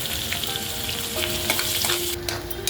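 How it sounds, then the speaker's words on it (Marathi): Onion frying in oil with mustard seeds, cumin and curry leaves for spicy misal. A dense, loud sizzle continues throughout, broken by a few stirring scrapes, close up, with no talking. "कांदा चांगला भाजून घेऊया आपण"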